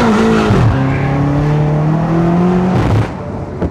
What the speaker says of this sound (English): Skidding.